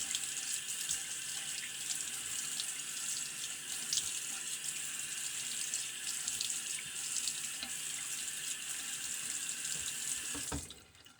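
A bathroom tap runs steadily while someone rinses their face after a wet shave with a shake-sharp razor, a constant close splashing hiss that stops abruptly at the end.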